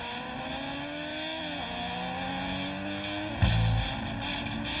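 A racing motorcycle runs down the long front straightaway at Grattan Raceway near Grand Rapids, Michigan, during a WERA 6-hour endurance race, its engine droning steadily with rising and shifting pitch, loud and close with a brief burst of louder noise near the end.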